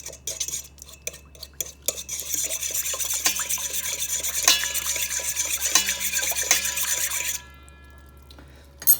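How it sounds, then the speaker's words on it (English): A utensil clinks and scrapes against a bowl while stirring yeast, melted butter and an egg together for cinnamon roll dough, a busy rhythmic close-up clatter that stops near the end, with no voices. "stir it up."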